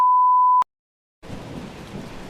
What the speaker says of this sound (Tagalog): Ang lakas na ng ulan oh.